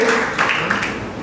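Church congregation applauding in a sermon hall, a brief, steady roar of many clapping hands with a few voices mingled beneath.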